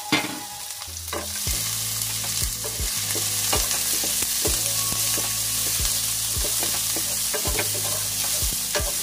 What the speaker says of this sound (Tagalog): So ilagay ko yung aking ginger at saka aking sibuyas. Pagsama ko na guys. Para lumabas lang yung aroma niya guys. Kaya igigisa ko po siya.